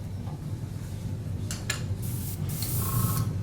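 A steady hissing spray runs throughout, a fine continuous airbrush mist applying yellow-green paint to a plastic scale model, with a few brief louder spurts, close and alone.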